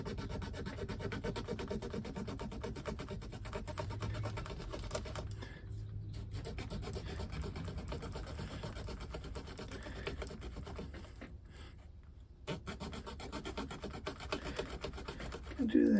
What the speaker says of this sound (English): Get my trusty little saw.